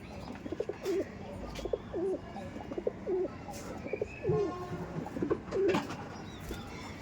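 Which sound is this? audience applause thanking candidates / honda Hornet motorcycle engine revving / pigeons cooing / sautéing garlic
pigeons cooing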